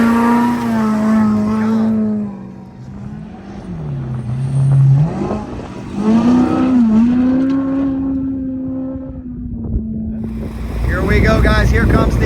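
Brown's Motorsports off-road race vehicle in the Vegas to Reno desert race launches from the start, a loud engine drone rising and falling in pitch through revs and gear changes, with wind buffeting the microphone.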